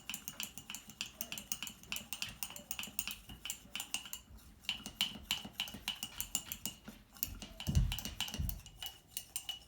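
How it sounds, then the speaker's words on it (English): A carbopol gel mixture being shaken and stirred in a container, with fast rhythmic clinking and rattling taps throughout and a louder low thump near the end, close and moderately loud with no talking. "I'm going to shake it, and then I'm also going to give it a little stir too."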